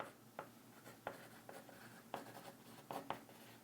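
Pencil scratching notes onto paper, a series of short, quiet scribbling strokes in irregular bursts, close by in a calm room with no talking.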